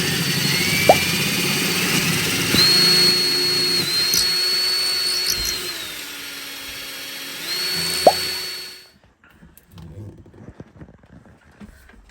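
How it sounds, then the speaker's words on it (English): A power drill bores a hole into a boat hull, whining steadily with pitch dips as it bites and slows, loud and close for about nine seconds before stopping, with faint rustling afterward. "my dad is drilling a hole into our boat."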